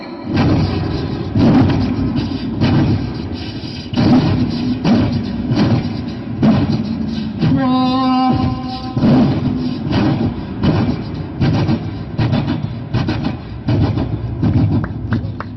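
A performer on a Malayalam comedy stage imitates a passing train with his voice, a loud, sustained rumbling chug with a rhythmic beat that keeps going and briefly rises into a whistle-like tone midway.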